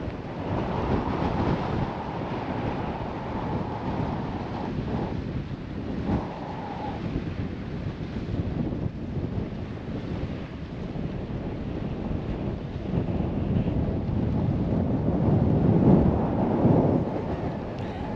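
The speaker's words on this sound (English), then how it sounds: "It's entirely too windy." Strong wind at Lake Meredith near Amarillo, Texas, buffets the microphone in a continuous, heavy roar, with gusts rising and falling and growing harsher near the end.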